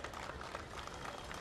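Steady dense audience applause at a kabaddi final between HIT India and Siddhi Vinayak, a continuous wash of many hands clapping without pause, loud and even throughout.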